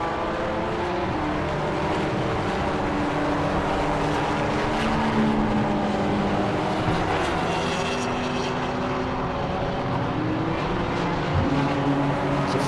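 Race cars at Silverstone in a BARC 2021 race drone steadily past with a continuous, loud engine roar and shifting pitch, heard from a trackside distance without any talk.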